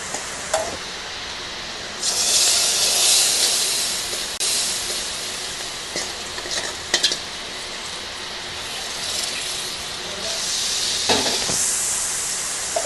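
Mustard seeds tempering in hot oil for a cucumber buttermilk curry, a loud hissing sizzle that swells in bursts, dies back to a low crackle, then flares again with a few sharp pops.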